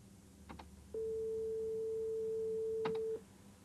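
A pure 440 hertz sine tone, concert A, held steady for about two seconds at even loudness, with a few faint clicks and knocks before and after it.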